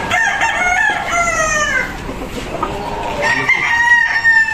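Gamefowl roosters at a game farm crow loudly nearby, one after another, with clucking in between.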